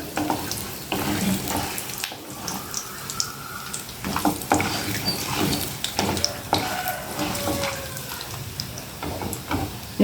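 Vermicelli frying in a pan with cumin and other tempering ingredients, a steady crackling sizzle with scraping stir strokes throughout, close and fairly loud with no voices.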